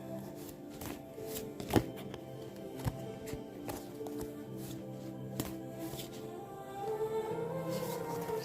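Tarot cards are shuffled by hand, giving soft papery riffles broken by irregular sharp taps and slaps. The sounds are close and moderately quiet, with no speech over them.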